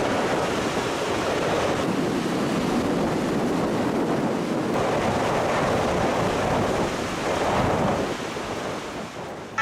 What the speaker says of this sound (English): Massive waves repeatedly slammed into the Coast Guard patrol boat, causing it to pitch violently and nearly leave the water several times.